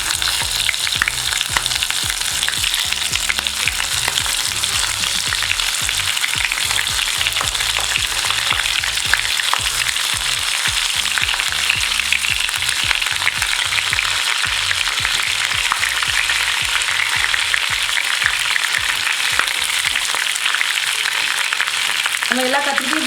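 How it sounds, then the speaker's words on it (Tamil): Stuffed brinjals fry in hot oil with a loud, steady sizzle and crackle that holds up for over twenty seconds. A few clinks of stirring sound in the pan near the end. "அந்த எண்ணெயில் கொஞ்சம் அது கொஞ்சம் ஃப்ரை ஆகட்டும்"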